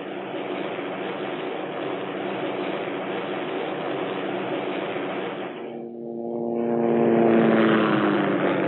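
Hughes OH-6 Cayuse light helicopter flying, a steady, muffled rotor and turbine drone that dips briefly and then swells louder with rising tonal whine.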